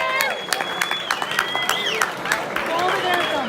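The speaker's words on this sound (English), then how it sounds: "please welcome, give a round of applause for Erin Hoyt." Audience applause at an evening cystic fibrosis fundraiser speech, a steady wash of clapping with scattered cheers and whistles from the crowd, loud and continuous throughout.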